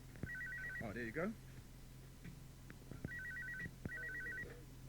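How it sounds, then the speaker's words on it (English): A telephone ring tone on a radio talk show call repeats in short warbling bursts, a brief voice speaking between the first rings, with a low hum underneath. "we've got it ringing, but we've got no answer"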